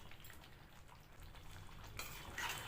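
Chicken with chillies and coriander is stirred in a pan, a faint sizzle with soft scraping of a spoon against metal that grows slightly louder toward the end.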